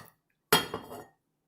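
Utensil scraping leftover food off a plate, a single close scrape of about half a second with clinking dish contact, no talk over it.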